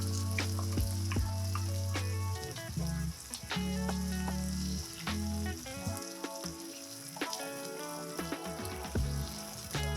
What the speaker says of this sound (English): We sear it for a few minutes and we add the tomatoes.